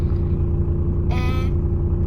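A learner driver's car engine holds a steady low idle rumble, then revs up briefly as the gas pedal is pressed, a rising whine audible for about half a second before settling back to the drone.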